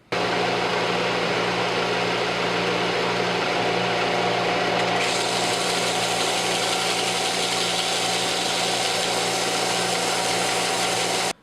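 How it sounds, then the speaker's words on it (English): A belt sander shapes the handle of a cherry wood mallet, producing a loud, unbroken abrasive roar close by that holds steady for the whole stretch before stopping abruptly. "Now I'm just going to refine the shape of the handle on the belt sander."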